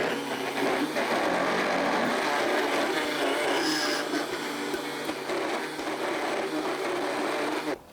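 A blender churns ice cream with added cream in a kitchen, giving a continuous loud whir with a rough, grinding texture that runs steadily and stops abruptly at the end.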